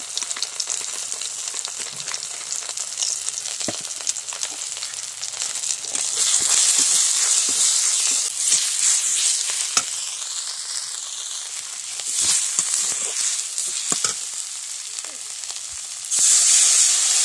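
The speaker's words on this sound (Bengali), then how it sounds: "মশলাটা কষা হয়ে গেছে।" Spice paste with turmeric and chili powder sizzles steadily in a pan, a dense close hiss that swells louder at times, with occasional stirring scrapes and taps.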